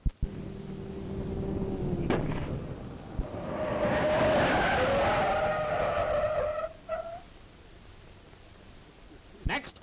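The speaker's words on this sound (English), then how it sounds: "Studebaker brakes are safe brakes. Never any doubt about safe, certain stopping from 60 miles an hour to 0 in" A 1932 Studebaker braking hard from 60 mph to a stop, a loud rising screech of tires lasting several seconds over engine and road rumble, ending abruptly, with a thump at the start and end.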